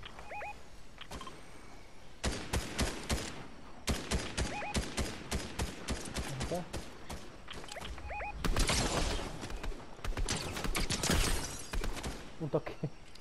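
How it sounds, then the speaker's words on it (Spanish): Gunfire in Fortnite, repeated bursts of close, loud shots and rapid volleys coming in irregular clusters, with game effects in between and a voice talking at times. "Y con esa arma muy mala, gente, estoy dando unos tiros re buenos."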